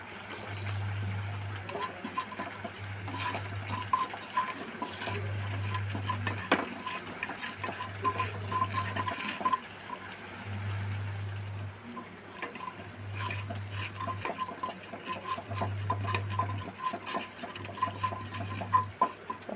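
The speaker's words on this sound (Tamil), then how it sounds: "கடுகு உளுத்தம் பருப்பை தேங்காய் எண்ணெயில் தாளித்து விடுறோம்." Mustard seeds and urad dal spluttering in hot coconut oil give scattered sharp crackles and pops over a steady low pulsing hum, with no voices.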